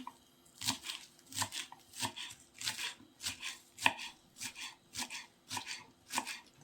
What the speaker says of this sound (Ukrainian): Ріжемо цибульку зелененьку